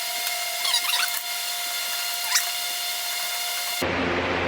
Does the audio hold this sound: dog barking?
no